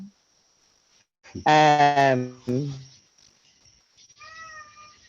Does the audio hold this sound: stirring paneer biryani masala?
no